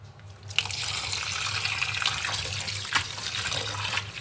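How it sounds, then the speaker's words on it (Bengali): Gourd leaves are swished and rinsed in water, with close splashing, trickling and dripping sounds and a few sharper sloshes, and no talking. "আমি এটা অনেকবার ধুয়ে নেব, বেশ কয়েকবার।"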